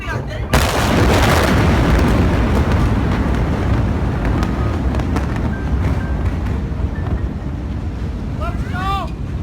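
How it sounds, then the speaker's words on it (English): A large explosion at a port booms into a long, heavy roar of blast and wind rumble, loud and sustained, with faint voices and a high whistling near the end. "Soon after the second explosion, the people behind the camera had seen enough and decided it was time to leave."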